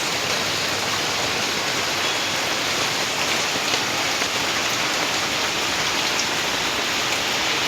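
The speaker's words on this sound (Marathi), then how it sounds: "धार पाऊस पडतोय बघा" Heavy monsoon rain pours down steadily outside a home, a dense, continuous roar of drops hitting surfaces with no pauses, loud and close throughout.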